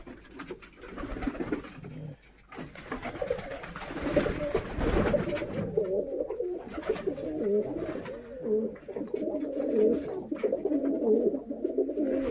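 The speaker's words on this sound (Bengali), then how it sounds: "এই দেখতে পাচ্ছেন বাচ্চা আছে, বয়স্ক কবুতর আছে।" Young and adult pigeons kept in an indoor loft coo continuously and close by, with soft overlapping throaty calls and occasional shuffling.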